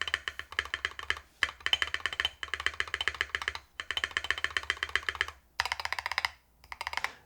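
Rapid keystrokes on a NAJA 68 mechanical keyboard with a very stiff, solid feel, coming in close, crisp bursts of clacks separated by brief pauses.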